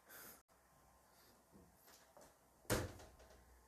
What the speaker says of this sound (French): Désolé pour le bruit de porte.